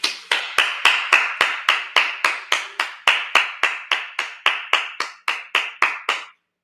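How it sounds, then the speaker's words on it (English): Hands clap in a steady, evenly spaced rhythm, about twenty crisp close claps over several seconds, then silence. "All right, let's clap it up."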